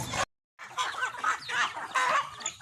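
Native chickens on a rural farm in Ilocos cluck close by in a short burst, then a brief silent gap before a dense run of overlapping clucks and chatter.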